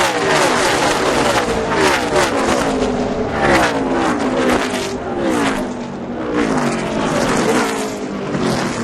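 NASCAR race cars roar around the Las Vegas track, a loud, continuous blur of high-revving engines with rising and falling pitch as several cars pass close by, no voices over the din.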